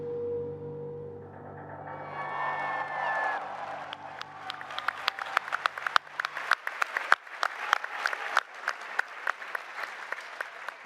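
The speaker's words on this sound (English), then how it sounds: "Everyone started clapping." A convention audience at a Fallout 76 presentation breaks into applause after a country-roads singalong, claps swelling from a sustained tone into dense, sharp clapping that carries on steadily.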